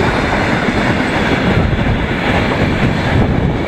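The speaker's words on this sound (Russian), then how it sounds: "Уголь тащит на экспорт." Freight wagons loaded with export coal roll past very close and loud, a dense continuous rumble of wheels on rails with clattering rail noise and no voices.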